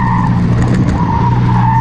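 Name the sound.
single-seater car with BMW motorcycle engine being tested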